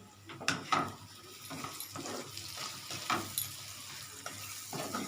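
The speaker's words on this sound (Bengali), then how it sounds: "এবার আমি একটু এটা নাড়ি" A spiced mixture for egg akuri sizzles in a pan while a spoon stirs it with repeated scraping strokes over a steady frying hiss, close and moderately quiet.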